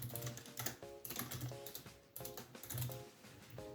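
Rapid typing on a computer keyboard while entering script code, with quick bursts of close, clicky keystrokes and short pauses between groups.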